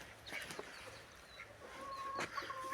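Chickens on a farmyard give a few faint, scattered clucks against quiet outdoor background, distant and sparse.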